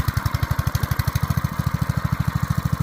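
The small engine of a pest sprayer runs close by with a rapid, even putter of regular pulses, like a lawn mower idling, continuing steadily with no talk over it.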